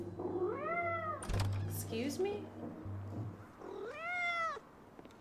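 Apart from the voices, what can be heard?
cat meowing in video game Life Is Strange: Double Exposure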